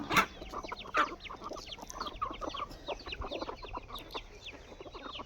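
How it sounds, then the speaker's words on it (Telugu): A group of chickens clucks close by, with many short, overlapping clucks in an uneven, busy rhythm and no talking. "చాలా కోళ్ళ వరకు అయితే లేవు అనమాట కొట్టుకుంటున్నాయి"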